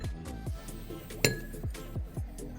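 A utensil clinks against a bowl in a steady rhythm of light scraping taps as raw milk and turmeric powder are stirred together, with one brighter ring midway.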